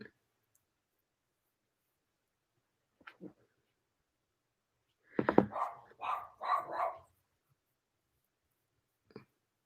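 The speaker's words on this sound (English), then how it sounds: "Luna barks at everything" Luna, a pet dog, gives a short cluster of barks indoors, three or four quick, moderately loud yaps in a burst, with a couple of faint clicks before and after and quiet around them.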